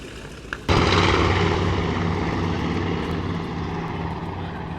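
Vintage World War II bomber propeller engines, a B-17G or B-25J at an air show, surge into a loud, steady, throaty drone after a quieter idle and a brief knock, holding full power with no talk.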